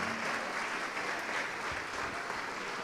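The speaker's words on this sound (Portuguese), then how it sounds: "Vamos aplaudir mais ao nome do Senhor." A church congregation claps steadily in a continuous, even wash of applause, moderately loud and filling the room with no pauses.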